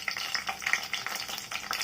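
Green chillies frying in hot oil in a kadai, a close, steady sizzle and crackle with small spits and pops throughout, no talking.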